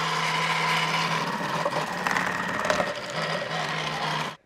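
A Thermomix TM6 with its cutter attachment slices cabbage on the thick setting, producing a steady motorized whirr with a low hum and light chopping texture that continues evenly before stopping abruptly.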